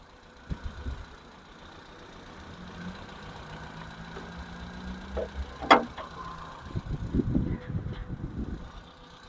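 A Hyundai Santro engine hums low and steady at idle, with a few thumps and a sharp click partway through, then louder rumbling toward the end.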